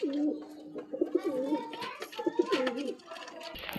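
A pair of pigeons for sale in Kolkata coo close by in rhythmic, bubbling low calls, with people talking nearby and a brief rustle near the end.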